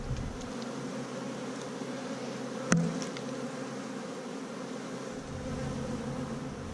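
Honey bees buzz steadily at an open, queenless hive, a close continuous drone with one sharp click partway through.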